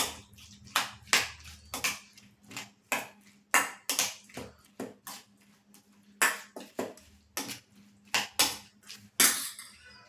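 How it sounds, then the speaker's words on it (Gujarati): A spoon stirs potato masala sandwich filling mixed with a spoonful of homemade yogurt in a bowl, giving steady, close clinks and scrapes against the bowl in a fairly regular rhythm throughout. "અને હવે હું આ બધું હલાવી લઈશ."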